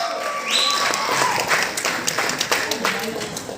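Clapping from an audience at a film cast event, a dense patter of hands under a lively crowd with voices mixed in, steady across the whole stretch.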